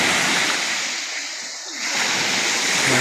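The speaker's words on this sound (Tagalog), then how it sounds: "Bakit kaya ang lakas ng kampas ng alon?" Strong sea waves surge and crash continuously at a Samal Island beach under an overcast sky, a loud, broad wash that dips briefly midway before swelling again.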